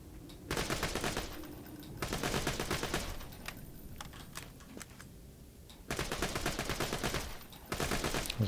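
Shock pistol firing in Borderlands 2, coming in several sustained bursts of rapid shots separated by brief quieter gaps, moderately loud over game ambience.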